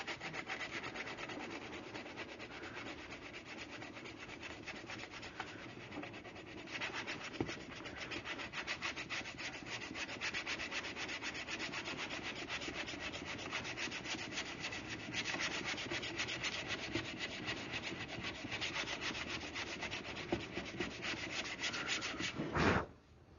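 A car fender is hand sanded with a sanding block during bodywork, giving a steady, continuous scraping rub with rhythmic back-and-forth strokes that runs close and loud the whole way, with no talking.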